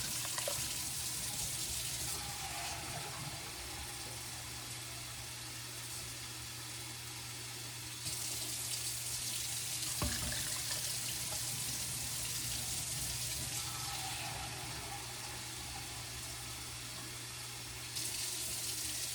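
Steady running water from a tap streams into a pot, a continuous hiss with slight shifts in tone, no voices.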